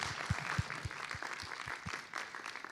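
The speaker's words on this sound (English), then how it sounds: "let's give them another round of applause" Applause for presenters at a climate leaders symposium, faint and distant with a low rhythmic thumping of clapping under a soft crowd wash.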